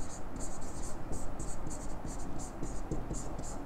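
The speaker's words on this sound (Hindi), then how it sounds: "यहां लिखेंगे" Chalk or marker scratches across a classroom board in short repeated strokes, a faint scratchy rhythm with soft room noise behind it.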